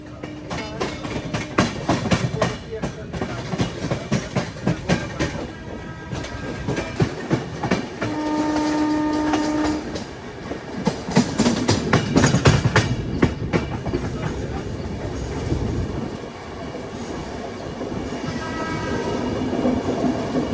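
A Duronto Express from Chennai Central to Delhi, hauled by an electric locomotive, runs steadily over the rails with a continuous close rumble and rhythmic clickety-clack, and a brief horn-like tone rises midway.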